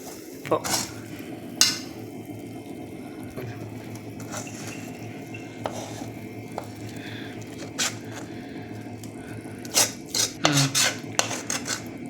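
Cooked jackfruit Mysore pak being scraped and poured from a pan onto a ghee-greased plate, with scattered metallic clinks and scrapes of utensil on cookware over a low steady background hum.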